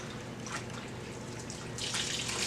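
Cloths being soaked in a water basin for a partial bed bath, with soft, continuous splashing and sloshing that swells louder near the end, heard close up with no talking.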